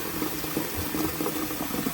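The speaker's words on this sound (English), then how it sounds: "you want to put them in the pot and then more than cover it with water" Water pours steadily into a pot over dried beans, a continuous soft splashing and rushing that stays fairly quiet throughout with no voices.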